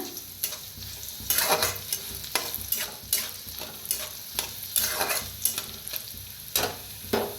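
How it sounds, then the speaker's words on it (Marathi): Crushed garlic, chillies and curry leaves fry in hot oil with a constant sizzle. A spoon scrapes and stirs the pan in repeated strokes throughout, close and fairly loud, with no voices. "लसूण बारीक कुटून घेतलेला मिरच्या कढीपत्ता आता चांगलं जरा भाजून घेऊया आपण"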